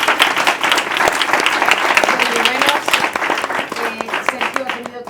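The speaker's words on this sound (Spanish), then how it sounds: "Un aplauso para ellos." A round-table audience applauds the panelists in a loud, sustained burst of many hands, continuing for several seconds while a voice begins speaking over the fading clapping near the end.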